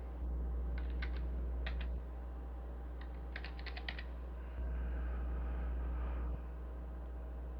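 A computer keyboard is typed on in quick, faint clusters of key clicks separated by pauses, set over a loud, steady low hum.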